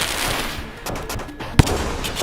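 Weapon fire in the video game Rain World, with one sharp loud blast standing out over a busy rumbling game soundscape and a few fainter thumps around it.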